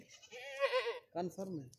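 A Rajanpuri goat at a goat farm bleats loudly and close by, with one long wavering call followed by two shorter bleats, while someone talks.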